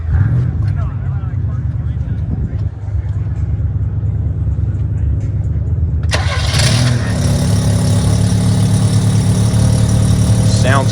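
A stock Mazda rotary engine in a truck at a vintage Datsun car and truck show cranks for several seconds, then catches and settles into a loud, steady idle close by, with people talking around it.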